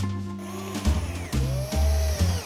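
A power drill bores installation holes, probably in wood, running in several short, loud bursts separated by brief stops, with no voices.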